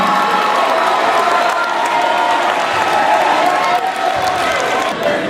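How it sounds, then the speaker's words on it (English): A crowd cheers and applauds loudly for the final six ninjas at a ninja training gym event, dense continuous clapping mixed with shouts and children's voices. "Can we get a round of applause for them?"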